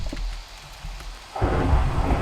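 A Minecraft thunderstorm from a weather and storms mod: a quieter low rumble, then a sudden surge of loud rain and thunder roar that fills the rest, with no talk.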